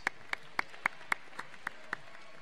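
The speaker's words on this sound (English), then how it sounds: "Give another round of applause." Roughly eight slow, evenly spaced handclaps, crisp but fairly quiet, at a senior awards night after a sung performance; no other sound stands out.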